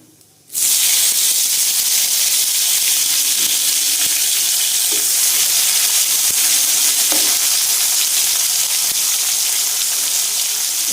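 Chopped tomatoes dropped into hot oil with fried whole spices for a potol chingri curry hiss into a loud, steady sizzle that starts abruptly and continues throughout, with faint stirring clicks and scrapes beneath it.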